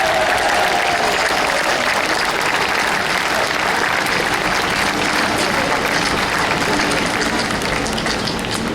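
A large crowd applauds athletes at a send-off in Sheffield, giving sustained, loud, dense clapping that carries on evenly for several seconds.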